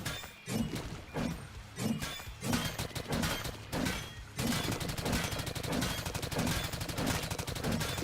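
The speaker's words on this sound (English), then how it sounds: "The shotgun, man." Rapid, repeated shotgun blasts from the video game Terraria with the Calamity mod, loud and dense, layered over a steady pounding game soundtrack with no voices.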